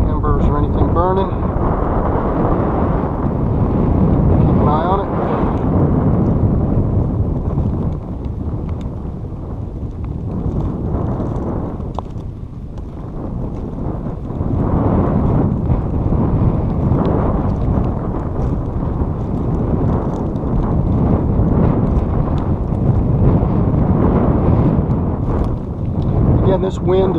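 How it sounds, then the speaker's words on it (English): Gusty outdoor wind buffets the microphone beside large burning piles of tree slash on a mild day, rising and easing in uneven waves, with a person talking over it for much of the time. "This wind is not a constant wind. Sometimes it's calm, but sometimes it blows"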